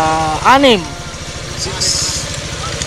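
Several Yamaha Aerox scooter engines idle together at a parking stop near Monasterio de Tarlac, a steady low mechanical pulse running throughout while someone talks over it near the start.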